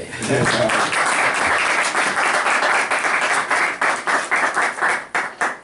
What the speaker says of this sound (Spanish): Los dejo con ellos. Un aplauso.